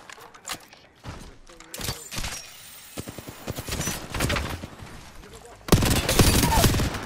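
Sharp bursts of gunfire in the shooter game Apex Legends, scattered single shots and rapid volleys that build to a loud sustained barrage near the end, with footsteps and clatter between them.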